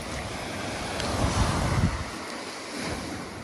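Wind buffets the microphone on a shingle beach at Aldeburgh during a fishing session, a steady rushing noise with gusty swells and a faint surf-like wash, no voices.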